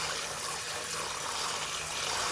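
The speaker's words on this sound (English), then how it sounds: "getting some water on our pigtail to set it on to boil." Tap water runs steadily into a pot over salted pigtail in a kitchen, a continuous broadband rush of pouring and filling with no talk over it.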